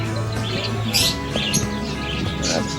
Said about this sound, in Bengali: পাখিগুলো এখানে বিভিন্ন ভয়েসে ডাকাডাকি করছিল শুনতে বেশ ভালোই লাগছিল